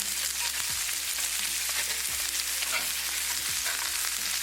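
Salmon pieces fry in a skillet with mushrooms, giving a steady, close sizzle and crackle with a few soft scraping stirs, no talking.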